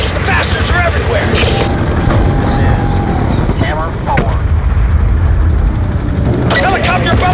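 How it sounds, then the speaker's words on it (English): A military helicopter in the Call of Duty Black Ops II story campaign finale, with a steady, loud rotor drone mixed into a dense battle soundscape of explosions and shouted voices. "Helicopter above the parking structure!"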